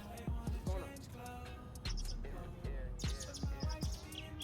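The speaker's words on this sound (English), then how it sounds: "Oh my God, the birds are chirping." Birds chirp and tweet in a park, with short bright calls repeating at moments, moderately near, mixed with soft thuds and background noise.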